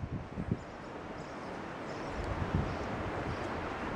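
Steady wind rushes across an open park with trees, a broad continuous roar buffeting the microphone, with a few low thumps early on and no talking.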